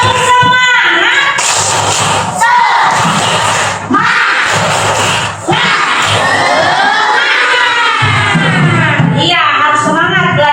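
A first-grade classroom of children shouts and chants loudly together in rhythmic clapping bursts, with excited cheering voices throughout.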